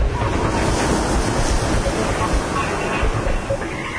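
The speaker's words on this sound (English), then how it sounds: "You'll have to contend with the massive waves the wind will whip up, the real power of the seas." Storm-driven ocean waves, a loud, unbroken roar of surf and churning water mixed with heavy wind buffeting close to the microphone, holding steady throughout.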